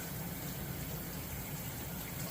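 Lukewarm water running from a tap to wet a rice-paper spring roll wrapper, a steady, close gushing hiss that continues evenly without pause or voices.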